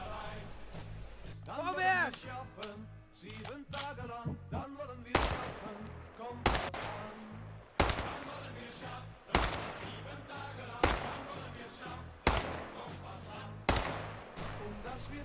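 Rifle fire in the World War II game Gates of Hell: Ostfront, sharp single shots cracking at intervals of a second or two, heard alongside voices and in-game chatter early on.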